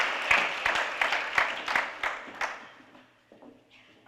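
Audience applause for a speaker at an NAACP jobs campaign event in Connecticut, a burst of clapping that fades out over a few seconds.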